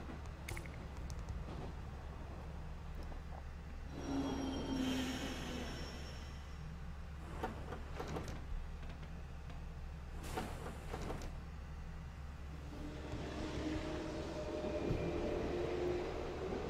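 Steady low train rumble and rattle inside a moving carriage in the Yo-kai Watch 2 video game, with a continuous hum, brief whooshes and clatters passing by, at moderate level and with no talking.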